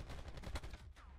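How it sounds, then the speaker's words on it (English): Gunfire in Call of Duty: Black Ops 4 Gun Game mode: a rapid string of fairly faint, sharp shots in quick succession, with no voices over them. "He got the first shot off before I turned around"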